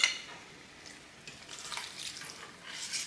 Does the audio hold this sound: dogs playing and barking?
no